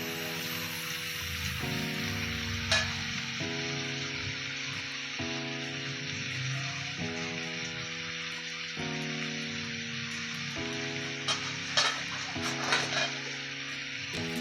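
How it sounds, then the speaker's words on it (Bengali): Boiled vegetable stems are stirred in a sizzling cooking pan, a steady frying hiss with a few scraping clatters of a utensil against the pan, while soft background music plays throughout. "ঢাকনা উঠিয়ে একটু নেড়ে দিচ্ছি।"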